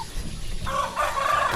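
Domestic chickens on a backyard feeding spot, clucking and calling in short bursts close by, with a rising, brighter call partway through, over steady outdoor background noise and no talk.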